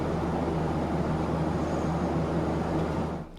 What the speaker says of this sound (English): Just normal airplane.